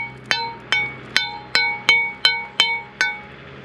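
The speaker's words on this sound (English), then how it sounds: "You hit it with a hammer, it's clean." A hammer knocks slag off half-inch plasma-cut metal, giving eight sharp, ringing metallic strikes at a steady pace, each fading quickly, close and loud.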